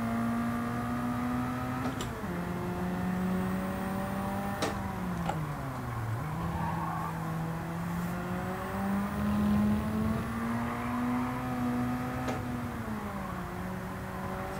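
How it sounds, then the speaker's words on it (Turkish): A Ford Sierra Cosworth RS500 racing around the Atlanta track in Gran Turismo 7 drones steadily with its engine pitch rising and falling, punctuated by a few sharp off-throttle pops and crackles as the throttle lifts. "Bu arada taktuk sesler birden gazdan veya frenden ayağımı çektiğim için oluyor"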